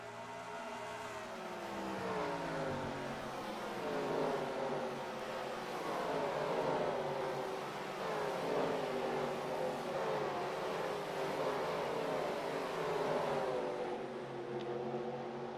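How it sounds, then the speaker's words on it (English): Race cars in the NR2003 racing game at Dover roar past the start-finish line in a continuous stream, their engine notes rising and overlapping at moderate loudness without talk. "We're going to see all the cars as they go by the start-finish line here."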